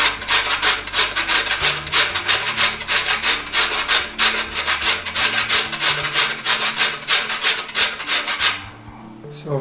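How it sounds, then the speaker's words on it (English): Whole nutmeg rasped quickly over the fine side of a grater for apple butter, a close, steady run of dry scraping strokes in brisk rhythm that slows and stops near the end. "we're going to grate some nutmeg in there"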